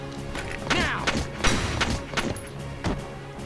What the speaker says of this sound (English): I'll take this and open fire